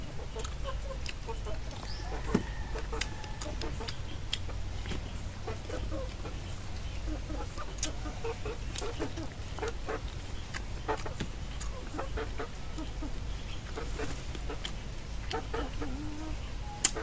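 Chickens cluck sporadically over a steady low background hum, with scattered short clucks and faint bird calls spread throughout, none very loud.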